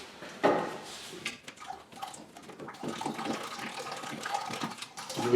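Antifreeze pours out of a removed radiator hose on a 1965 Impala SS with a 283 small-block during a water pump swap, a soft uneven splashing trickle that carries on throughout.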